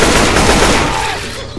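Rifle fire in the zombie shooter Left 4 Dead 2: a loud, close, rapid string of shots that blur into a continuous crackle, then fade out toward the end.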